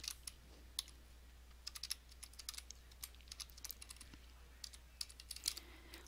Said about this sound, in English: So I'm going to go ahead and click on this and start typing in a few dates.